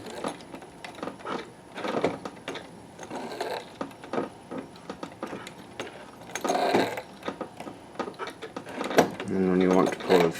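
A Techsew 611 walking foot industrial sewing machine with a Consew servo motor sews over thick seams in close, uneven bursts of mechanical clatter and thumping, with a person talking over it.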